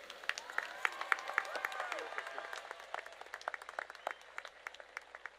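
Scattered applause from a crowd at a high school graduation ceremony, many hands clapping at first, then thinning out to a few individual claps.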